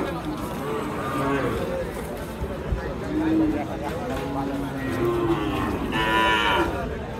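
Cattle moo repeatedly at a busy cattle market in Sonaichandi, Chapainawabganj, where Gir heifers, cows and calves are traded. Several drawn-out calls rise over a constant crowd murmur and nearby voices.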